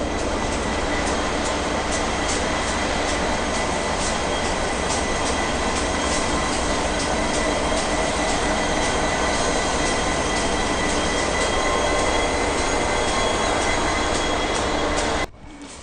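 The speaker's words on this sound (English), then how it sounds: "Still hook up to the train." The Indian Pacific train with locomotive G530 rumbles loudly and steadily with rolling wheel noise and faint rhythmic clicks throughout, then cuts off abruptly at the end.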